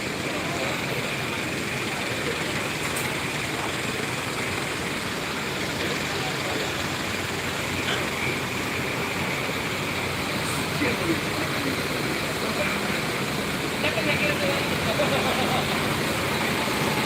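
A tourist bus idles at a crowded bus terminal platform during the holiday homecoming rush, its engine giving a steady low rumble beneath continuous terminal noise and background chatter.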